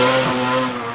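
A methanol-fueled four-rotor Lexus GS 300 drift car screams through the Pukekohe sweeper, a loud, harmonic-rich rotary engine howl held for a brief moment that fades slightly as it passes.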